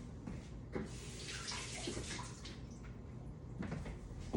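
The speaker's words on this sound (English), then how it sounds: "I'm gonna rinse these just real quick." Chopper parts are rinsed under a running kitchen tap, a close hiss of flowing water broken by splashes and clatters as the pieces are moved through the stream.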